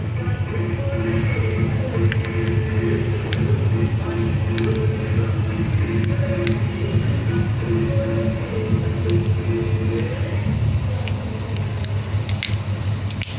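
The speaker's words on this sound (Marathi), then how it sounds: "तेल गरम झालं की त्याच्यामध्ये मोहरी टाकणार आहोत" Mustard seeds spit and splutter in hot oil in a kadhai for potato bhaji, a dense, steady crackle that carries on evenly throughout with no talking.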